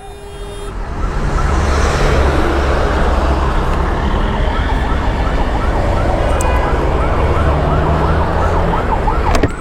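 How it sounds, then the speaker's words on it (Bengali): An ambulance siren wails steadily and loudly while the vehicle sits stuck in a narrow, congested lane of traffic, with engine rumble and street noise beneath the continuous rising-and-falling tone. "চিপার মধ্যে একটা অ্যাম্বুলেন্স আটকা পড়ছে"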